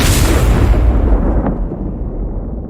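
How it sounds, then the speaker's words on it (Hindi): A loud, deep explosion from an animated nuclear bomb, a heavy roaring boom that rumbles and slowly decays over a few seconds, with no voices. "बम तेज धमाके के साथ फट जाता है"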